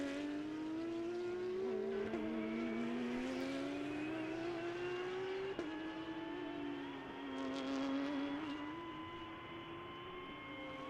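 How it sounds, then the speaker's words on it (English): A Lamborghini race car brakes into turn 7 at Sebring during a vintage and modern racing event. The engine note is sustained, moderately distant and rises and falls in pitch as the car slows and shifts down. "here we have the Lambo coming into the braking zone of 7, right behind Lucas"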